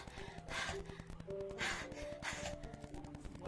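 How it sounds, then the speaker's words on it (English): From a horror visual novel, Doki Doki Literature Club: a series of sharp, hissing inhales like air sucked through teeth. Three or four separate breaths arrive at a steady rhythm over a faint tonal music bed. "It sounds like breathing. Sharp inhale, like someone's sucking in the air through their teeth."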